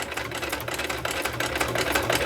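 An old sewing machine stitches lace onto a paper or cardstock book cover, a loud, fast, continuous mechanical whirr and needle chatter at a steady pace, close up and without speech.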